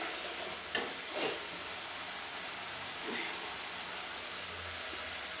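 Steady broadband sizzle of hilsa masala frying in a pan as green chillies go in, with a couple of brief louder crackles and a stirring scrape early on, no talk.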